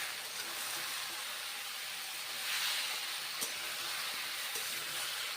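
Cauliflower florets fry in mustard oil, browning to a deep red, giving off a steady, even hiss of bubbling oil that stays fairly soft throughout, with a couple of faint clicks from the pan.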